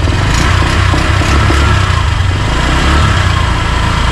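A 2025 Honda Click 125 V5 scooter idles nearby with a steady, low, even engine hum that runs unbroken throughout.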